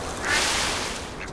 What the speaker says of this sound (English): Ducks, of course, they mow through their food.